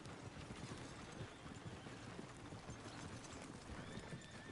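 Horse hooves clip-clop steadily in Red Dead Redemption 2, with occasional neighs and whinnies over a dense, continuous game soundscape; no one speaks.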